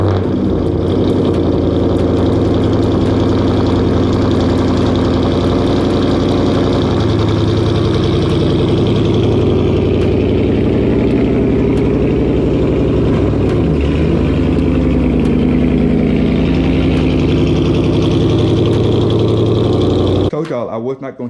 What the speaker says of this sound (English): So let's go ahead and give y'all that cold start right now.